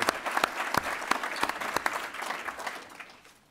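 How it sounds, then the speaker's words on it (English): Scattered applause at a formal dinner, individual sharp claps clearly separated at first, forming a loose irregular patter that thins and fades toward the end. "We can applaud them."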